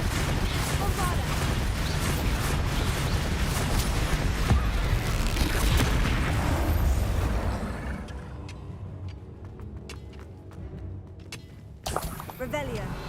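The Bombarda explosion spell goes off in Hogwarts Legacy as a heavy rumbling blast that roars for several seconds, then fades into scattered debris clatter, followed by a brief sharper burst near the end.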